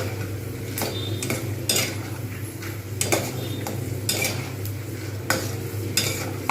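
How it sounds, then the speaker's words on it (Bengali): Potato slices fry in a pan for crispy aloo bhaja while a utensil scrapes and clacks against it in repeated sharp strokes over a steady background sizzle, up close. "এটা বেশ কিছুক্ষণ ধরে ধরে এরকম করে ভেজে নেবো"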